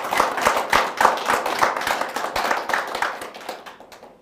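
Audience clapping hands in a hall at a special prayer gathering, a steady run of many hands over about four seconds that thins out toward the end, with no talk over it.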